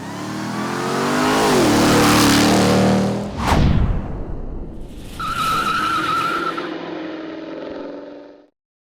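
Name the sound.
Ram TRX 4x4 with supercharged Hellcat Hemi accelerating, skidding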